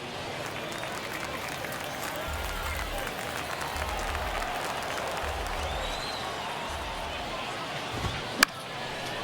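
Steady crowd noise from a ninth-inning, one-run MLB baseball video game, a dense continuous murmur with rising swells and a sharp knock near the end, running throughout under low rumbling.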